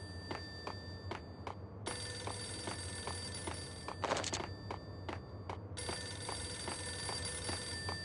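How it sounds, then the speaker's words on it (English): A payphone rings in the Max Payne video game in repeated ring bursts with short gaps between them. The ringing is fairly quiet over a low background ambience, with no talking. "A payphone started to ring."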